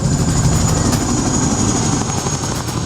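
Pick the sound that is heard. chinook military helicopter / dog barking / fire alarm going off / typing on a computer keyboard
chinook military helicopter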